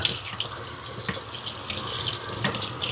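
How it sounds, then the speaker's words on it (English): Tap water runs steadily into a sink while someone washes their arms, a close, even splashing with small surges and no talk. "just washing my arms up"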